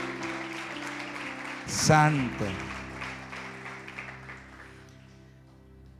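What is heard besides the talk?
congregation applause in church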